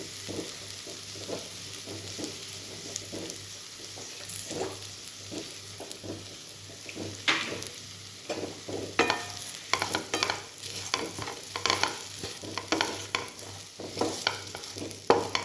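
Bean seeds being stirred into bhindi masala in a pan, with steady scraping and a low sizzle throughout, the spoon strokes growing louder and more frequent in the second half.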